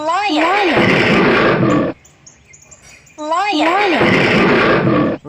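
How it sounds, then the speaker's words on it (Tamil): Lion roars, two long loud bellowing calls separated by a short pause, close and strong with rising and falling tones. "லயன். சிங்கம்."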